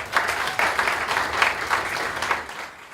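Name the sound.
audience applause for Mason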